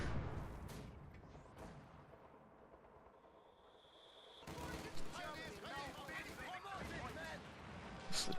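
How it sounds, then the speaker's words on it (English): Distant explosions from an 82mm mortar in a WWII strategy video game, a few dull booms among scattered gunfire under steady spoken commentary. "We do see an 82mm mortar doing some decent damage over here on this machine gun."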